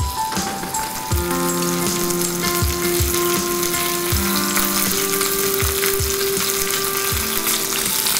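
Chicken breast sears in olive oil in a pan with a loud, steady, close sizzle and crackle that runs throughout, with tonal background music underneath.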